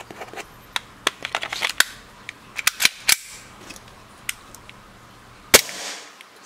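A WE G17 gas blowback BB pistol fires a string of sharp, snappy shots at uneven intervals, with the slide clacking and faint mechanical clicks in between, close and loud with no talking.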